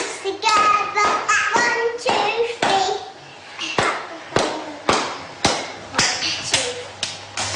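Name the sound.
hands clapping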